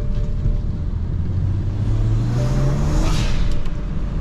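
A BMW 335i engine revs up from close by, its note climbing steadily as it accelerates before easing off, with a hiss of road or wind noise underneath.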